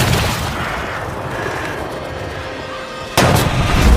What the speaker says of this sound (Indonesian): Scofield pun langsung loncat dan bersembunyi dan membalas tembakan sniper Jerman tadi.